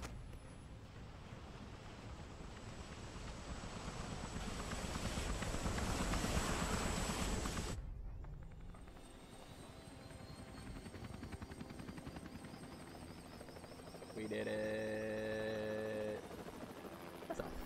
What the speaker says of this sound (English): I want to take the heli.